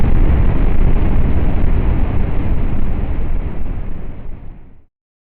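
Rocket ignition and launch: a loud, sustained roaring rumble of rocket exhaust that holds steady for several seconds, then fades and cuts off abruptly.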